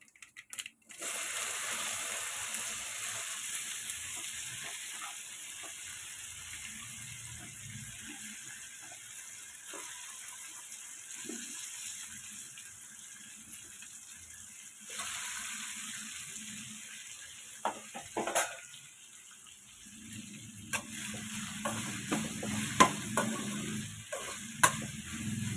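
Okra pieces dropped into a pan and frying, a steady faint hiss of oil with occasional clatters and scrapes, louder sizzling toward the end.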